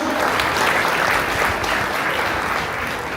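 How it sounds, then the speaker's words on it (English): A wedding reception crowd applauds after a speech, dense steady clapping from many hands filling the room at full strength for several seconds with no talk on top. "let's give a big round of applause"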